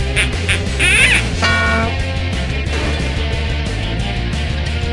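A cartoonish duck quacks repeatedly over a busy game-show music bed in the You Don't Know Jack trivia video game, with loud, close quacks clustered near the start.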